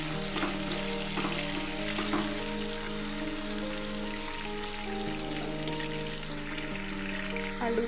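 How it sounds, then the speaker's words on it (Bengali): Potatoes frying in mustard oil with salt and turmeric give a steady, close sizzle and crackle with faint stirring clinks, with no talk over it. "আলুগুলো আমি ভাজতে দিয়েছি, এতে সামান্য নুন আর একটু হলুদ গুঁড়ো দিয়ে দেব।"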